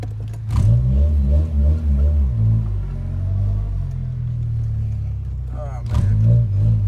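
A car with an open exhaust and a 2-step launch control revs loudly nearby in deep, choppy bursts that give way to a lower rumble, then revs again, while people talk over it.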